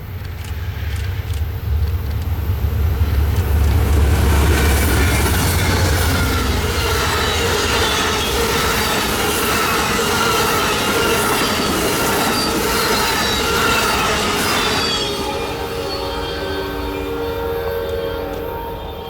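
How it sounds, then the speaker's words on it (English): Southbound Amtrak Coast Starlight passenger train, bound from Seattle to Los Angeles, passes close by at Sumner, Washington, with a loud, steady rumble of rolling cars and squealing wheels that carries throughout and eases slightly near the end. "Our first stop was Sumner to catch the southbound Coast Starlight Amtrak train number 11 from Seattle, Washington to Los Angeles, California."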